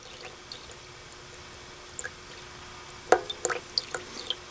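Small amounts of water poured and dripped into a container on a lab balance in a paint class, a few faint scattered drips and splashes over quiet room hum.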